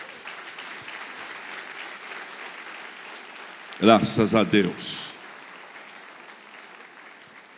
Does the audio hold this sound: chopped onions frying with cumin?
no